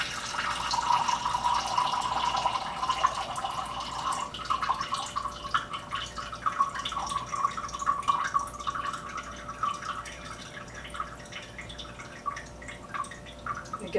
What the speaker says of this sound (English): pan, and we drain our grease.